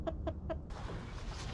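Backyard chickens near their coop give three short, evenly spaced clucks close by, followed by a low, steady background hiss.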